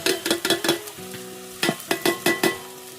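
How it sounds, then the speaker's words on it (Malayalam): Red chili, turmeric and coriander powders stirred into a frying mushroom roast, a series of close scraping stir strokes over a steady background sizzle, no talking. "ഇനി ഇതൊന്ന് നമുക്ക് നന്നായിട്ട് അതിൻ്റെ പച്ച മണം മാറുന്നവരെ ഇളക്കി കൊടുക്കാം."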